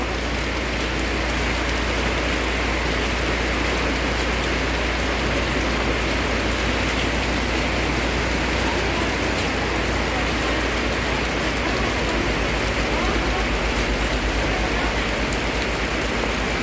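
Steady, dense rain pours down continuously in Pak Chong, Thailand, a loud broadband hiss with a low rumble underneath, no voices.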